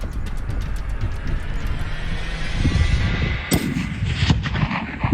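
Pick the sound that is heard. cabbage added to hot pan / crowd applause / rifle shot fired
rifle shot fired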